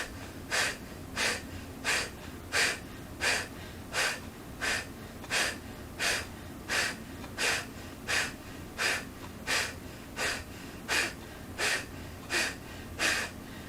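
Deep breathing exercise during a gentle shoulder therapy flow, about twenty steady rhythmic breaths, each an airy, evenly spaced swell over a constant background hum, close and moderately loud.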